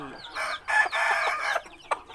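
Fighting chickens cluck and squawk close by in a busy burst of calls, one louder cry near the end.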